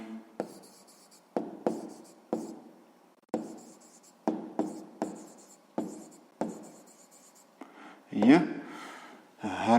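Pen strokes scratch on paper while a sixth-grade math problem about distance is worked out, a series of sharp, close scribbles in a steady rhythm, followed by a person speaking.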